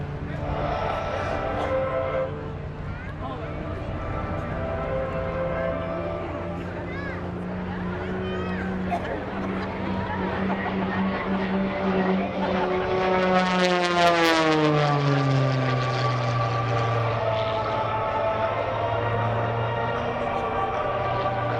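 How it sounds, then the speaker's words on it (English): An aerobatic propeller airplane dives at a naval air station airshow, its engine drone rising and then sweeping down in pitch as it passes close, loud and continuous under a commentator's voice. "Rob Holland is popping the smoke. Let's watch him as he dives in for Act 2"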